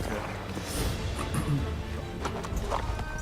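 A horse gallops in Assassin's Creed 3 on Xbox 360, its rapid clip-clop hoofbeats steady and close under game sound and someone talking over it.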